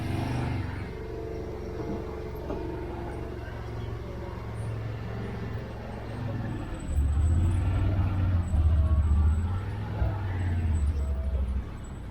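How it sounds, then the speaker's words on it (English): A fully loaded 2022 Rmax with a parking brake that hangs up drives along, its low engine and drivetrain rumble growing louder and rougher partway through, heard close from onboard. "So one of the problems we've had with this thing already is the parking brake hangs up a lot"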